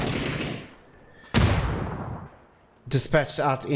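A grenade blast in the shooter PUBG: a loud boom that decays over about a second, following an earlier rumbling blast, with a commentator talking afterward.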